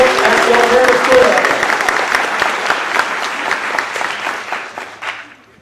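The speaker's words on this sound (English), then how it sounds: "So a good round of applause to the fine folks at the Alternative School" Audience at a Latino youth high school graduation ceremony applauds in a loud, dense burst that gradually thins and fades out toward the end, with a voice briefly heard at the start.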